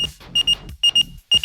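A broken robotic voice box in a video game emits short electronic beeps in quick pairs and clusters, loud and clear, broken by brief pauses.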